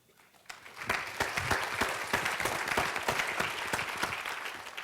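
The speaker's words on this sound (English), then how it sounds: "If you're not here, we're clapping for you." A medical conference keynote audience breaks into applause for awards: sharp individual claps ring out first, then swell quickly into steady, close group clapping that softens slightly at the end.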